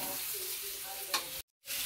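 Fried potatoes and cauliflower tossed with spices in a pan over high flame, a steady close sizzle with scraping stirs, a brief louder clatter, then a short gap before the frying resumes.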